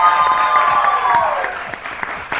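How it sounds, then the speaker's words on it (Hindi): A morning television show studio audience bursts into steady, dense applause, loud and sustained for a couple of seconds with a few sharper claps near the end. "स्कूटी के लिए एक बार जोरदार तालियां।"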